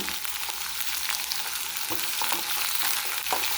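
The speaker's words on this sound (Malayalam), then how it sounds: "നല്ലതായിട്ടൊന്ന് വഴന്ന് വരണം." Ingredients for fish molly sautéing in a hot pan, a steady bright sizzle with occasional soft scrapes and stirs, close and continuous without talk.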